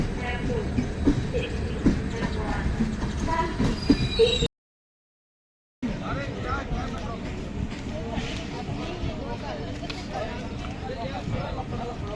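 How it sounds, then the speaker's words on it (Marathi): A train rumbles and clatters into Chiplun station amid busy crowd noise and voices, with a brief dead-silent gap partway through. "चिपळूण स्टेशन ट्रेन आलेली आहे"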